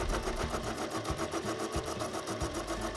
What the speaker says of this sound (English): spinning up the lathe and actually seeing what's underneath all this